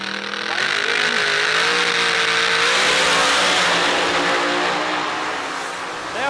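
Drag race cars at a Huntsville outlaw series event roar at the starting line, a loud sustained engine blare with rising and falling revs, close and overwhelming with no pauses.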